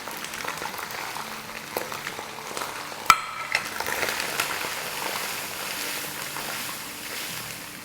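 Spices being stirred in a frying pan with chaat masala, garam masala, roasted cumin and white pepper, a soft steady sizzle with scraping strokes and one sharp clink of the spoon.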